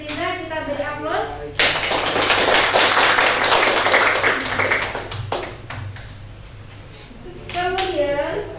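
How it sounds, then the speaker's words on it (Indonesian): A classroom gives a student's finished work a round of applause: a dense burst of clapping from many hands lasting several seconds, fading out, with a teacher's voice speaking before and after. "Oke, untuk hasil karya Fitri Liza kita beri aplaus."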